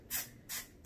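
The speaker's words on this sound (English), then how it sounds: "I'm going to spray it in the inside of my wig" Three short hissing pumps of a spray bottle misting lotion into the inside of a braided wig, evenly spaced and close.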